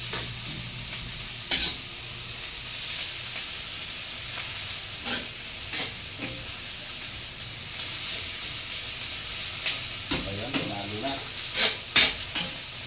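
Onions sautéing in a pan for sisig hiss and sizzle continuously, broken by repeated spatula scrapes and clacks against the pan, growing busier toward the end.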